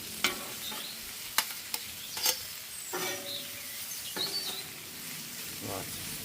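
Steak and onions frying for a Philly cheesesteak, a soft steady sizzle with a few sharp scraping and stirring clacks from a spatula on the griddle, no talk.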